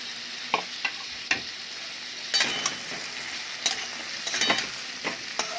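Jackfruit seeds frying in a pan with pumpkin and spices, a steady soft sizzle broken by sharp scrapes and clinks of a spoon stirring against the pan, with no voices.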